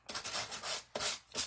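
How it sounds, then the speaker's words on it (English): A hand sander roughing up a paper card base, three or four quick abrasive rubbing strokes, close and fairly soft, with nothing else heard. "So I'm going to take my sander and just rough this up a little bit."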